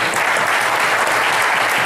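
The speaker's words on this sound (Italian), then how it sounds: "Allora, un applauso, poi dopo sentiamo gli altri." Dense crowd applause at the presentation of the 5th Rally dei 5 Comuni, steady and fairly loud for the whole stretch, with no speech.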